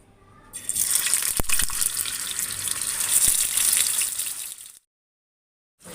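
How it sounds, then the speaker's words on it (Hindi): Kababs frying in oil in a pan for handi kabab, a steady close hiss and crackle that starts after a brief quiet, runs with a few sharp ticks, then cuts off abruptly before a short return. "अब मैं कबाबों को फ्राई कर लूँगी।"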